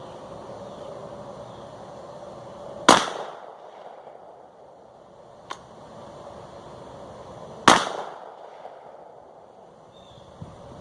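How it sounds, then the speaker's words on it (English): An L.C. Smith shotgun loaded with cut shells fires two sharp, loud outdoor blasts several seconds apart, each followed by a short fading echo, with a faint distant pop in between. "Now I'm going to take 2 more shots, and then we'll go see what we got."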